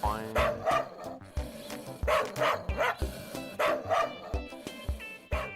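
A big dog in an animated cartoon barks in repeated, loud bursts near a stubborn crow, with short gaps between the barks and voices mixed in.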